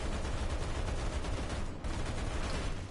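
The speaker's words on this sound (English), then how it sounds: "I just shot a piece of the wing off of this 109 with my 50 cal on the top of my Walker Bulldog" Rapid .50 cal machine gun fire from a Walker Bulldog tank in a video game, a dense continuous burst of loud close shots running the whole time with a brief dip near the middle.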